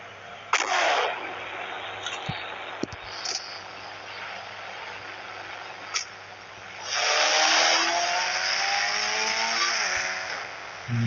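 A car's engine drones in the mobile driving game Indian Bikes Driving 3D, broken by sharp clicks and bangs, then swells into a loud revving surge whose pitch climbs and wavers for several seconds before a final burst.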